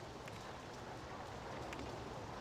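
Rain in RollerCoaster Tycoon falls as a steady, even hiss of drops pattering on surfaces, faint and continuous with no pauses or other sounds standing out.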